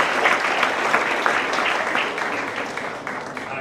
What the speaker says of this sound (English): So a round of applause for the parents, please.